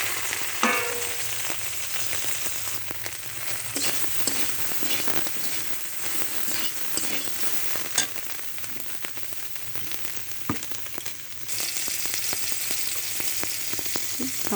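Soybean chunks frying in hot oil in a pan, with a dense, continuous sizzle and occasional stirring scrapes close up, steady throughout with no talking.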